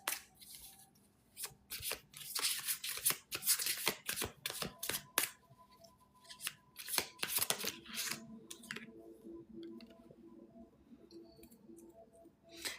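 Tarot cards are shuffled close up in quick, crisp riffles and flutters over several seconds, then settle into softer handling and light rustling.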